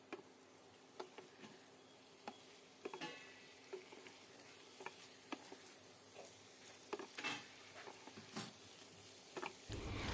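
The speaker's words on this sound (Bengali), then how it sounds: "আলু, পটল, চিংড়ি মাছ দিয়ে আবারও ভালো করে মশলার সাথে কষিয়ে নিতে হবে" Fried potato, pointed gourd and prawns are sautéed with spices in a pan. A faint, quiet sizzle runs under scattered spatula clicks and scrapes, with the stirring growing busier toward the end.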